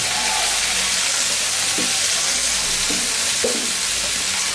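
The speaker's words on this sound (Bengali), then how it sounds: "এখন দেখি এটা মিলায় আবার ওই ভাজতে হবে" Okra fries in an oiled pan under a continuous loud hiss of sizzling, with a few soft scrapes as it is stirred and turned close by. No one speaks.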